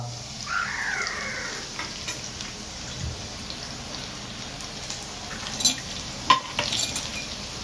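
Onion frying in an iron pan, a soft continuous sizzle with occasional stirring scrapes and a few sharp clicks near the end, no talking.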